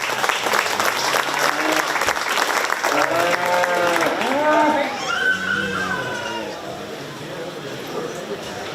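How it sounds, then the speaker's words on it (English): Applause for youth exhibitors in the market beef show ring at a county fair, loud steady clapping filling the arena, with horse whinnies and a voice breaking through midway before the clapping fades. "Let's give these exhibitors another round of applause"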